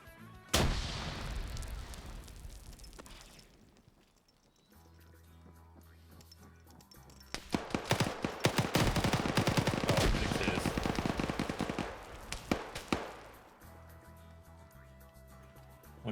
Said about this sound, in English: They're setting off the tripwires nades.